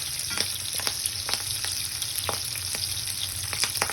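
Milkfish (bangus) belly frying in a pan, a steady close sizzle with scattered pops and crackles throughout, no talk.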